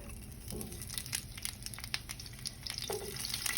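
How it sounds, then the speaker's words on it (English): Onion frying in oil left over from chilies for red chicken tamales, a soft crackling sizzle with a few light stirring scrapes, close and fairly quiet, no talk. "in the same oil, we're gonna go ahead and fry the onion"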